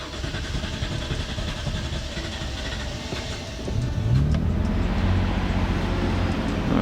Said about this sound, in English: now it's idling around 1700, which is a normal cold start